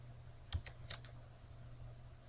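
Typing an IRR formula into a spreadsheet cell on a computer keyboard: a few quick, soft key clicks in two small clusters, close by and quiet over a low steady hum.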